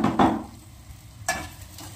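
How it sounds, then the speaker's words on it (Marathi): Chopped onion dropping into hot oil in a home kitchen pan, a sharp burst of sizzling and stirring at the start, then a steady low crackle with a second flare-up partway through. "कांदा आणि तेल यांचा मिलाप चालू आहे"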